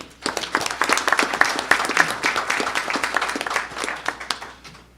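Audience applause for Chief Feltus at a City of Millville public meeting, a few seconds of moderate, scattered clapping from a modest indoor crowd.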